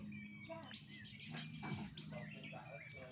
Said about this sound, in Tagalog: maririnig mo ingay ng ibon